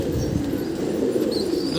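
Pigeons give soft, low, steady cooing, close and continuous, with a faint bird chirp near the end and no speech.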